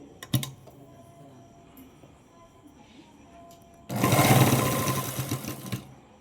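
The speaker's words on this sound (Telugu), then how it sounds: "ఇలా సేమ్ ఇంకో కుట్టు దీని మీద వేస్తున్నాను" A sewing machine runs in one loud burst of about two seconds near the end, stitching a seam on a Punjabi dress. Before it comes a stretch of quiet handling noise with a few faint clicks.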